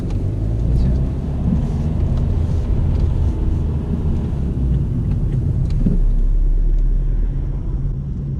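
A learner's car pulls away from a handbrake start during a driving test, heard from inside the car as a loud, steady engine rumble that builds slightly, with a bump partway through.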